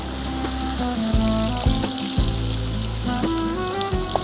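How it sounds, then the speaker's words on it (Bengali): Green beans fry in hot olive oil with a steady crackling sizzle, loud and close, while clattering kitchen noises ring out now and then. "এখন এটা আমি জাস্ট 2 মিনিটের মতো একটু ভেজে নিই, হালকা ফ্রাই করে নেব"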